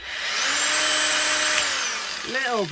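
A repaired Metabo 18V cordless angle grinder rated at 8,000 RPM spins up, holds a close, loud, high whine for about two seconds, then spins down, and a voice begins speaking at the end.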